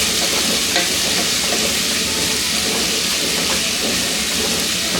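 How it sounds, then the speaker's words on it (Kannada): Chopped spring onions fry in hot oil in a pan, making a loud, dense, unbroken sizzle that stays steady for the whole stretch. "ಇದೊಂದು 5 ನಿಮಿಷ ಅಷ್ಟು ಎಣ್ಣೆನಲ್ಲೇ ಫ್ರೈ ಆಗೋದಕ್ಕೆ ಬಿಡೋಣ."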